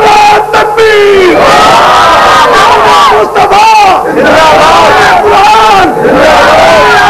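A large crowd at an Islamic religious gathering roars the Nara-e-Takbeer slogan back in response. The loud, massed shouting surges in repeated waves and nearly fills the whole clip, with a lead voice calling between the responses.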